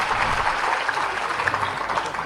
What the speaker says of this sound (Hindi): ताली बजाओ सरपंच साहब के लिए